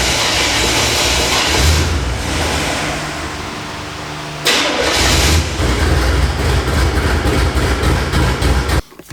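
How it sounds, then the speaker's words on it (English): A Chevrolet K5 Blazer engine runs loud and close, a heavy rumbling drone that jumps to a harsher, fuller roar midway before cutting off abruptly near the end. "We are going to get the blazer cranked up"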